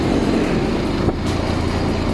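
A heavy, rare motorcycle coasts downhill, producing a steady low engine and road rumble with wind noise, fairly close and loud, with no talking.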